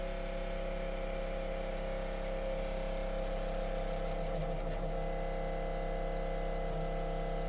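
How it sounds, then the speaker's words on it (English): A steady mechanical whir and hum of a small pump running continuously to refill an accumulator, with a constant tonal drone and faint rattling, close and unbroken. "pump started, it'll fill the accumulator back up and then click off"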